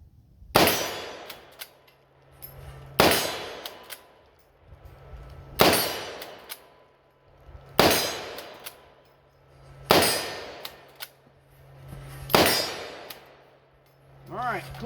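A bolt-action AR rifle fires six loud shots downrange at steel targets, evenly spaced about two seconds apart, each sharp crack followed by a metallic clang and a short decaying ring.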